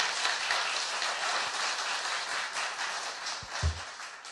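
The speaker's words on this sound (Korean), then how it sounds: "박수." Audience applause in a Korean talk-show studio, a dense, even wash of clapping held for several seconds before fading slightly.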